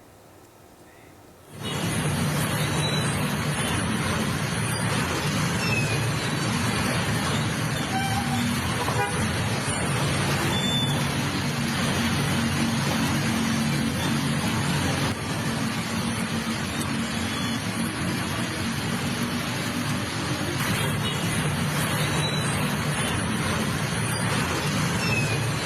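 A Jakarta traffic jam surrounds the listener with a dense, continuous wash of idling engines and road noise, and car and bus horns toot now and then, all at a moderate, unbroken level after a quiet start.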